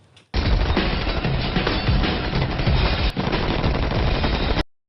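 Sustained automatic gunfire from the action film The Raid, a dense continuous burst of rapid shots lasting several seconds, loud and close, starting and stopping abruptly with no talking.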